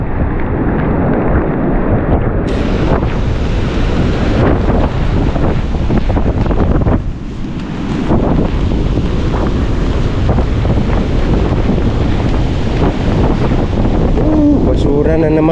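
Strong typhoon wind roars continuously, buffeting the microphone with heavy, loud gusts, and a voice is partly audible beneath the rushing noise.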